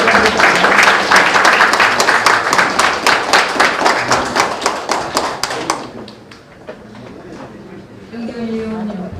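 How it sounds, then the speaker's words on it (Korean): An audience at a formal forum gives loud, rhythmic applause that fades out after about six seconds, leaving a few scattered claps and the room's quiet ambience. "큰 박수로 부탁드리겠습니다."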